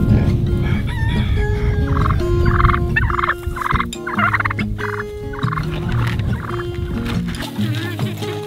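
Turkeys gobble repeatedly and a rooster crows amid a busy chorus of clucking birds on a small farm, steady and close throughout.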